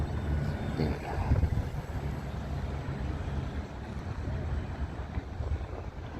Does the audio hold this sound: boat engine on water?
yes